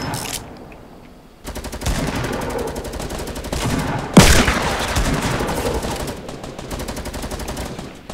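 Rapid gunfire in the video game Fortnite, including sniper and pistol shots, a dense burst of loud cracks with a sharp booming shot standing out midway, continuing in rapid succession.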